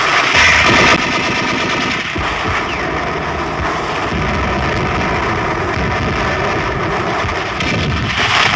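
World War II beach landing battle with dense, continuous machine-gun fire and artillery crashing throughout, a loud, sustained barrage of overlapping shots and blasts with no pauses.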